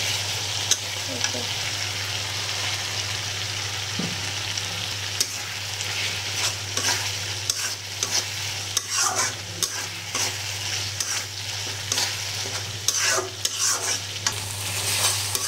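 Taro stolons stirred and frying with spices in a pan, a steady close sizzle with repeated scraping strokes of a spoon throughout.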